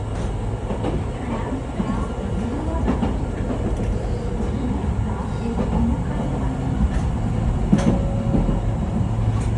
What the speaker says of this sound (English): Cute little train.